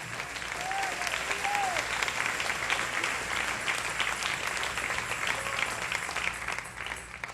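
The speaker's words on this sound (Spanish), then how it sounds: "Dale un aplauso al Rey." A church congregation applauds steadily in a large room, a broad sustained wash of many hands clapping, loud and even throughout with faint voices beneath.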